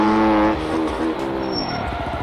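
A small motorbike, a Honda Biz with a 160 engine, in MX Bikes: a buzzing, revving engine that holds high, drops in pitch, then climbs again, close and loud.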